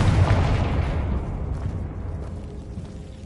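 The Confringo fire spell exploding in Hogwarts Legacy, a loud, deep blast at the start that rumbles and fades out over a few seconds.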